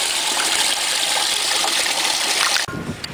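Steady, close gushing of water pouring from a public spring in Ternopil, a continuous bright splashing stream that stops abruptly near the end, leaving quiet room sound.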